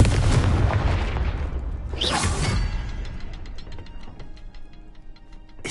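The Confringo explosive spell blasts in the video game Hogwarts Legacy, a loud, close whooshing burst that swells over rumbling, mechanical clatter and then fades into quieter clicking.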